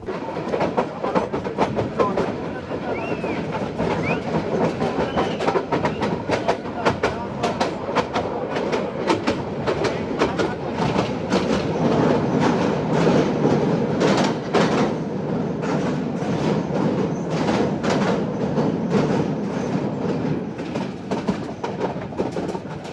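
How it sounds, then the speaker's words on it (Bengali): Balaka commuter train running at high speed toward Dhaka Airport station, a loud, continuous rumble with steady clickety-clack of wheels over rail joints, heard from inside the carriage throughout. "ট্রেনটি আমাদের প্রবল গতিতে এখন ঢাকা বিমানবন্দর রেলওয়ে স্টেশনের দিকে যাত্রা শুরু করেছে"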